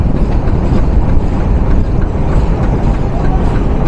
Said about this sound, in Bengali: আমরা প্রবেশ করে গেলাম গ্যান্ডারিয়া রেলওয়ে স্টেশনে